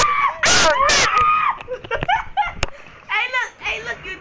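A person screams loudly in two long shrill bursts, followed by shouted exclamations and excited voices.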